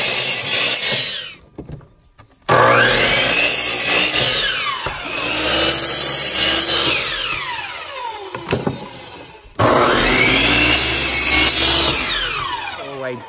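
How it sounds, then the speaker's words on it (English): A homemade outdoor miter saw station cutting wood: a loud motor whine rising as the blade bites through, three separate cuts with pauses between, up close and with no talking. "A little homemade outdoor miter saw station."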